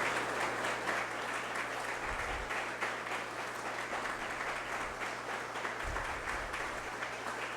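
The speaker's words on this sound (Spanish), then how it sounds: "Más fuerte ese aplauso para doña Sara Ross de Rowinsky." A crowd claps continuously at a Holocaust remembrance commemoration, a dense, even wash of applause heard at some distance and fairly soft, with no pauses throughout.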